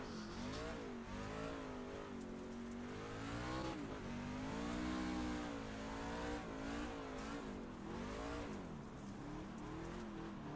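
Dirt truck engine from the iRacing sim racing on a dirt track, a loud, sustained, wavering roar that rises and falls as it revs through turns, with faint tire skids, alone and without talk.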